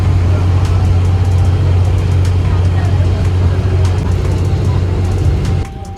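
Passenger ferry boat running to Alappuzha through the Kuttanad backwaters, its engine a loud steady low drone throughout, with faint voices and knocks on board before the sound drops away at the end.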